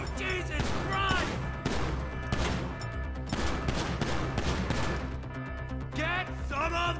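Gunfire rattles in dense bursts during a shootout in the video game Grand Theft Auto 5, loud over a constant layer of game audio with shouting voices mixed in.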